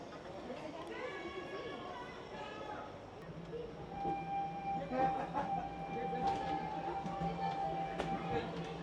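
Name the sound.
train ride at Animal Kingdom, Walt Disney World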